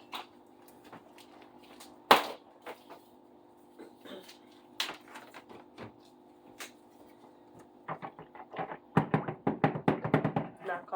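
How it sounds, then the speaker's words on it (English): Knocking a casting mold to shake out air bubbles: scattered sharp knocks and taps, one loud thump early, then a quick run of rapid raps toward the end, over a low steady hum. "Knock all the air bubbles out"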